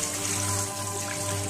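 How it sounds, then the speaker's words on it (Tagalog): Tap water runs in a constant, close hiss while lamb meat is washed a second time, a steady unbroken flow with no talking. "Hugasan natin ng pangalawang beses po."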